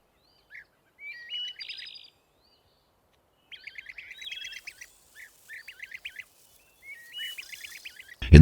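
Bee-eaters calling in flocks over the Masai Mara: bursts of bright, rapid chirps and trills come in several clusters, fairly close and clear, followed by a sudden low thump at the very end.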